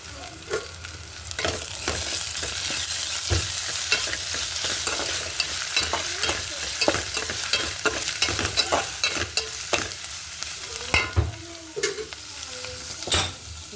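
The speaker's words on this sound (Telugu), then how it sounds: "ఉల్లిపాయలు కూడా వేగాయి. అల్లం వెల్లుల్లి పేస్టు కొంచెం వేసుకుందాం." Ginger garlic paste and onions frying in a pan, a constant sizzle broken by frequent sharp scraping strokes of a spatula in an irregular rhythm, close up with no speech.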